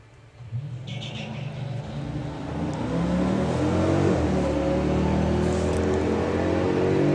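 Two drag racers, a 6.1 Hemi Jeep and a 5-litre Mercedes, launch side by side at a drag strip, their engines rumbling low and then swelling into a loud, sustained roar as they accelerate away.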